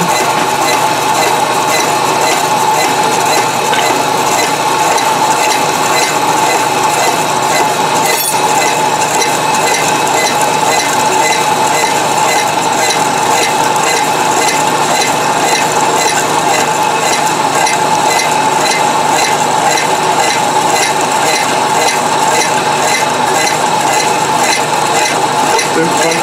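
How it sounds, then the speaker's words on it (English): A milling machine cuts metal for wood chipper blades, a loud, continuous metallic grinding and whirring with a steady mechanical rattle that runs without pause. "Finding my feet with this milling machine"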